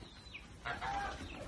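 Chickens, both roosters and hens, on a home farm give a few faint, close clucks, brief and soft in a quiet yard with no talk.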